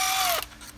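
A hand ratchet fitted with a Snap-on Torx Plus socket breaks loose a valve body bolt on a 6L80/6L90 automatic transmission, giving a short, close burst of clicking that stops abruptly, followed by quiet.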